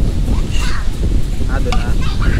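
Strong wind buffets a microphone at a car campsite, a constant loud low roar and rumble, with faint voices underneath.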